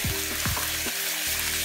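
Garlic paste frying with onions in a pan, a dense, close sizzle with a few soft utensil knocks, no voices.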